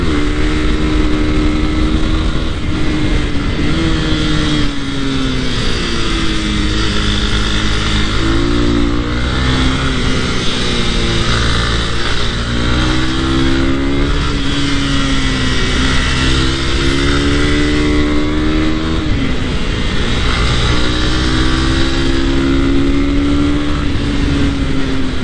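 A Honda CB300R motorcycle rides a gravel road with its rear wheel losing traction. The engine drones loud and close throughout, its pitch rising and falling with the throttle over steady wind and road rumble.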